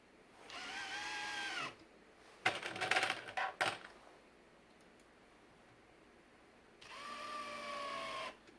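A Makita 18V sub compact impact driver and drill drive larger cabinet screws: a whining motor run, then a short burst of rattling impacts, then quiet, then another rising whine, nearby with no speech.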